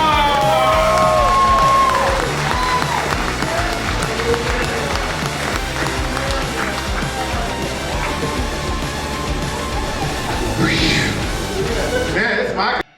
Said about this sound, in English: You guys make a lot of noise for Mrs. Claus, Brent Starr!